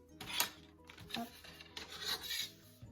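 A craft knife drawn along a ruler cuts paper for a baby album, making a few short, close scraping strokes, soft and fairly quiet, with no voice.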